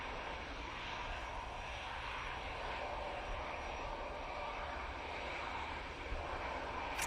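A TUI airliner taking off at Manchester Airport, its engines producing a faint, distant, steady roar that holds evenly throughout without any nearby voices.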